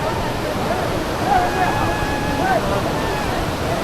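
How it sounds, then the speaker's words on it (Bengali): Fast mountain river water pours down near a bathing ghat on the Yamunotri to Gangotri route, a loud, constant rushing roar with faint whistling tones above it. "শুধু জলের গতিধারাটা একবার দেখুন পাহাড়ের উপর থেকে কিন্তু নেমে আসছে"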